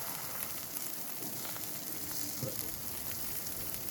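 Food sizzling and spitting on a griddle set up on a 413G, a steady bright hiss with small pops, close and alone.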